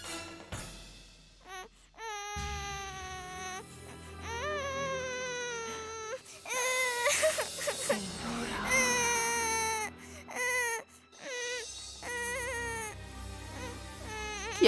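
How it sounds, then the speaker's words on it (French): A young child cries and wails loudly and close by in a domestic scene, with rising sobs broken by short pauses, and adult voices talking over parts of it. "Mais pourquoi est-ce qu'il pleure?"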